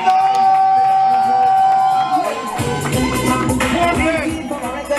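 An outdoor concert crowd at the One Nation Together event in Portland erupts into loud cheering and whooping midway, following a sustained held tone, and the roar stays dense to the end.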